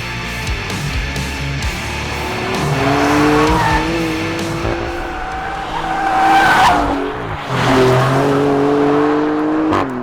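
The 530 hp Maserati Grecale Trofeo sports SUV revs hard and continuously, its engine note climbing and falling through gear changes under steady, loud road and tyre noise, with tyres squealing and no voices.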